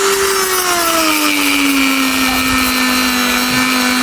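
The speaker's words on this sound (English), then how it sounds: "I'm going to use a Dremel" A Dremel rotary tool on setting 3 grinds into a tyre sidewall, a loud, close, continuous high whine that dips slightly in pitch under load, over a rough scraping hiss.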